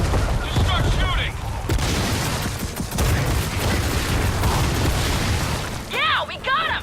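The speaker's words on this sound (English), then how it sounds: "Just start shooting." Gunfire and booming blasts from the video game Gears of War 4 fill a dense, loud battle scene during a finale fight, with bursts continuing throughout and voices speaking over the din.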